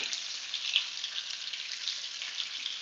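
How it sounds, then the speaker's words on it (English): Oil sizzles and crackles steadily as Arctic char fish fries in a hot pan, a continuous bright frying hiss with small pops throughout. "Frying it at the beginning"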